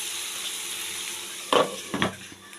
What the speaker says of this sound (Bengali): এবার টকবক করে জল ফুটে উঠেছে